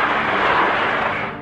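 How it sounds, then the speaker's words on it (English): A loud, sustained roaring blast of an explosion aboard JAL 123 at 24,000 feet, recorded in the cockpit, broadband and rumbling, fading slightly at the end. "Okay, there's the explosions."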